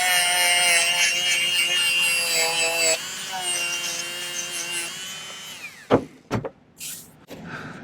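A rotary abrasive wheel grinds the inside of a silver ring, a steady high-pitched whine with strong tonal bands that runs for about six seconds and then breaks into a few short bursts of contact near the end.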